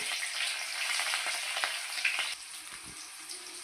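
Green chillies sizzle and fry in hot oil in a pan, a steady crackling hiss with small pops throughout, close and fairly loud, no talking.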